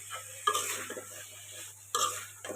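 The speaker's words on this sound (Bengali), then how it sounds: "এই যে এখন আলু দিয়ে দিতেছি" New potatoes going into a pan of poa fish cooked in spices, a soft sizzle with a few clinks and scrapes of a utensil against the pot, two sharper knocks a second or so apart.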